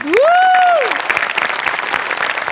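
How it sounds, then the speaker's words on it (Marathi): A crowd applauds loudly with dense, steady clapping, opening with a rising, swooping whoop over the start. "तुझ्या अटेम्प्टसाठी टाळ्या व्हायला पाहिजेत"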